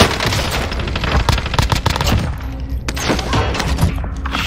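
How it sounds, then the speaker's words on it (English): Gunfire in the Call of Duty Warzone video game: loud, dense bursts of automatic fire and heavy thumping shots coming from several directions, continuous and close. "we're getting shot at from everywhere, bro"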